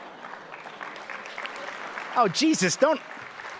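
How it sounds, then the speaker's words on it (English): An audience applauds steadily at a lawyer's talk, a broad wash of clapping that runs under a man's animated, exclaiming speech throughout. "Don't applaud that."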